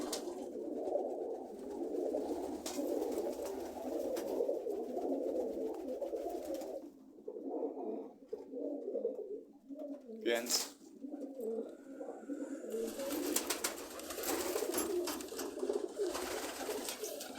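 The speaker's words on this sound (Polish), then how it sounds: "Widzicie jakie to są gołębie." Pigeons coo in low, soft throaty bursts, repeated steadily and close by, with some faint background rustling and a brief gap midway.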